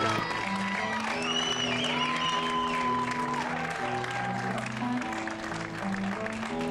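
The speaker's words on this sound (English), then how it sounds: "Well-deserved round of applause" Crowd at a Little League Baseball regional game applauds pitcher Eli Jones, a steady sustained ovation with cheering, heard under a commentator's talk.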